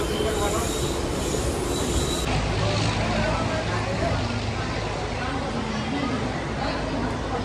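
A suburban train rumbles steadily with loud wheel and rail noise throughout, a dense continuous roar from inside the carriage as it arrives at Dadar station, Mumbai.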